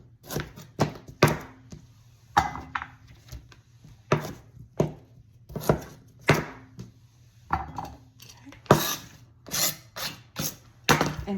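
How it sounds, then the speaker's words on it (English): Vegetables for a creamy cauliflower soup being chopped into big chunks on a board, a series of irregular knife thunks, some in quick pairs, close and moderately loud with no talk. "I'm gonna go ahead and chop these up in big chunks and just throw them in my pot"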